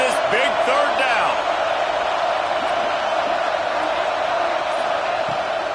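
A home crowd roars at a football game during a big third-down defensive stand, a loud, continuous wash of cheering that holds steady throughout, with a play-by-play voice talking over it.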